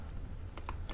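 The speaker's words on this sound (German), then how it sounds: "Ein leises Klicken." Two or three quiet, quick clicks close together over a faint low background hum, in the video game Black Mirror 2.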